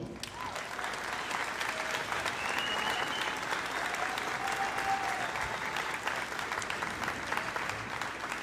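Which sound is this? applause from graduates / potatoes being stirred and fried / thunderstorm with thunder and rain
applause from graduates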